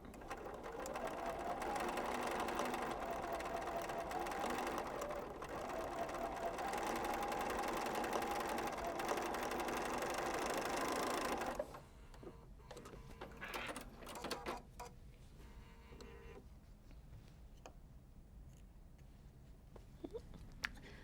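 A sewing machine stitches quilt pieces in a loud, steady, fast-running whir for about eleven seconds, then stops abruptly, leaving quiet handling noises and faint shuffling.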